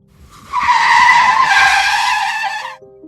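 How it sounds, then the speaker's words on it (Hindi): A truck brakes hard in a sound effect, its tires letting out a loud, sustained skidding screech that starts abruptly and holds for about two seconds before cutting off. "रमेश ने चौंक कर ब्रेक दबाया।"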